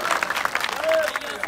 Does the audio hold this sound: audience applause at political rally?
yes